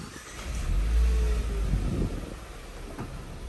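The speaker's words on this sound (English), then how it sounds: "And then just hit the engine start stop button." A 2019 Renault Captur engine starts at the push of its start/stop button, a low rumble rising into a short rev before settling to a quiet idle, heard close and alone.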